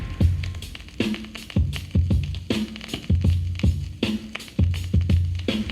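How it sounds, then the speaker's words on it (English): Sampled drum loop with a grimy vinyl texture: punchy kick and snare hits in a steady, repeating groove, with crackle and dust noise riding faintly underneath, loud and close, no voices. "You can hear that grimy vinyl crackle and dust on there."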